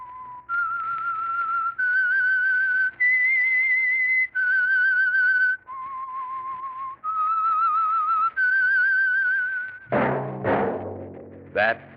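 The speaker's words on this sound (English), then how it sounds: "That whistle is your signal for the Signal Oil Program, The Whistler." A whistled theme melody for the 1947 Signal Oil radio program The Whistler: a clear, steady tune of sustained notes stepping up and down, close and loud, ending in a quick flourish of sliding tones.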